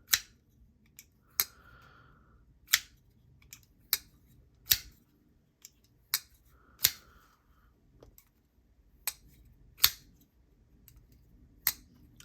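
An M390 steel pocket knife with micarta handle scales making crisp, isolated cutting snicks, about a dozen sharp clicks spaced roughly a second apart, close and clear with quiet between.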